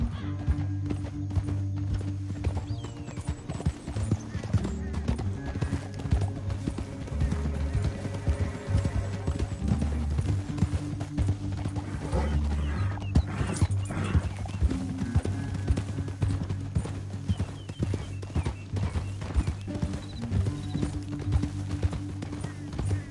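Steady clip-clop of galloping horses with occasional whinnies in the video game Red Dead Redemption 2, loud and continuous, set against a low rumbling music-like drone.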